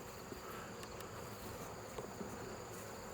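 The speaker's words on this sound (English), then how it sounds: "make sure these honeybees are okay" Honeybees buzz in a steady, dense hum during a hive inspection, close and fairly faint, with no talking.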